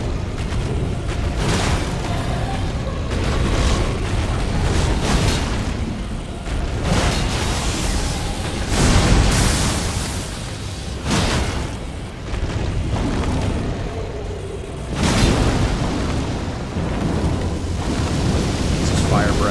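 Fire breath attack in a video game boss fight, heavy roaring blasts and rumbling booms swelling and fading in repeated waves, loud and continuous across the clip with some talking mixed in.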